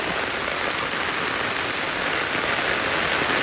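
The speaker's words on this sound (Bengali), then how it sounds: "দর্শক অনেক বাড়ি বৃষ্টি অনেক বাড়ি বৃষ্টি" Heavy rain pours down during a flood in Laksam, a steady, dense, loud hiss of drops hitting water and surfaces that never lets up, with no voices.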